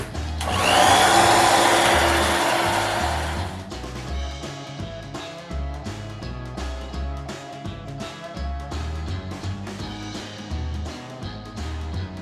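A hair dryer blows steadily and loudly at first while hair is styled into a pompadour, then cuts off after a few seconds as rhythmic background music carries on.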